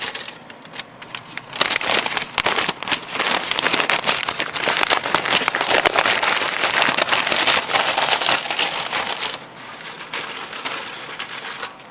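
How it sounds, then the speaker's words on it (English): Popcorn kernels are shaken inside a paper bag with salt, giving a dense, continuous rattling and rustling that is loud and close and carries on for several seconds. "Shake the bag up, and then you just have to fold it."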